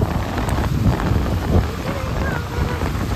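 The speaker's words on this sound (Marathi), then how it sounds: "बघू शकता तुम्ही कसला पाऊस आहे." Heavy rain pours down steadily during a windy storm under gathering clouds, a dense, loud, continuous roar of drops with gusty low rumbling throughout and no pauses.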